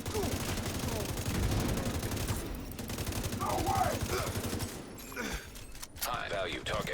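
Rapid bursts of video game gunfire crackle repeatedly at a fast rate under a busy in-game mix, fairly loud and close, with some brief gaps between volleys.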